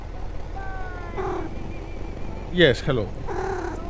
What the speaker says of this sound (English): We got a kitty.